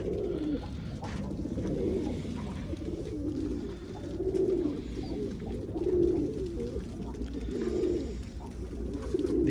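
Pigeons coo in low, soft, repeated phrases, one after another at a steady pace, over a quiet background murmur.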